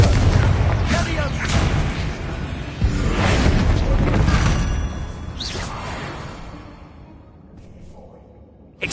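Confringo blasting-spell explosions in Hogwarts Legacy, a series of loud booming bursts with whooshing tails, fading toward the end as the fight quiets.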